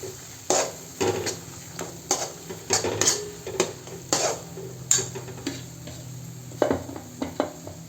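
Soybean paste is sautéed in oil in a pan for a soybean bhaji, with repeated close scraping stirs and light clinks over a steady sizzle, and no one speaks.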